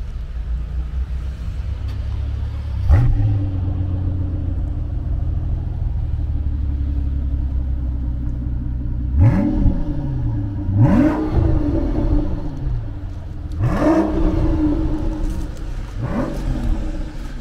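An Audi RS7 car engine cranks and catches into a steady idle, then revs sharply three or four times, each rise in pitch falling back to a low rumble.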